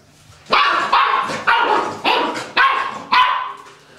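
A puppy barks six times in a fairly even rhythm, each sharp, close bark followed by a brief pause, with no talking over it.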